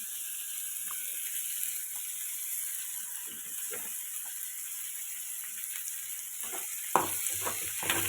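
Something fries in hot oil for a tamarind-leaf and dried fish curry, a soft continuous sizzle with scattered light scrapes and clicks of stirring, a sharper clatter near the end.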